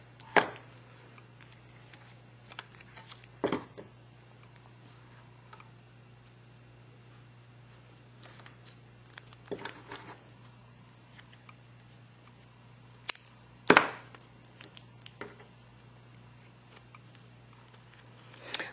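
Scissors snipping a strip of Martha Stewart pop-up foam dots, a few sharp, close clicks and snips spaced apart against a quiet room hum, no voices.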